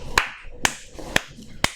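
A man claps for himself with four sharp, evenly spaced hand claps, each a crisp close slap, over faint background noise.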